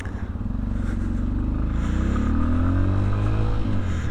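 A Sinnis Terrain 125 motorcycle engine pulls away in first gear, a steady single-cylinder drone rising smoothly in pitch as it accelerates, close and continuous without talk.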